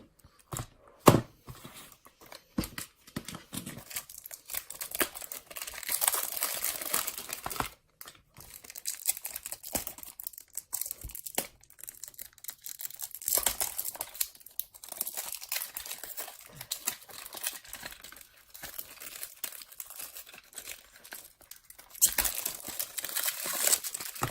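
Packaging of a Tomica Suzuki Swift toy car being opened by hand, with irregular close crinkling, tearing and crunching of plastic and card in bursts and pauses over about twenty seconds, no talking.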